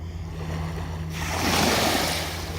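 Ocean surf washing onto a shoreline, a steady broadband rush that swells louder midway as a wave breaks, with low wind rumble underneath and no voices.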